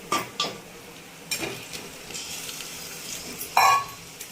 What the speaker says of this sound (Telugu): ఇప్పుడు చికెన్ వేసుకుందాం